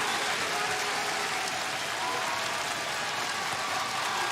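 A wrestling crowd at a professional match in Manchester, New Hampshire, sends up a steady, dense wash of cheering and applause that fills the arena with no break.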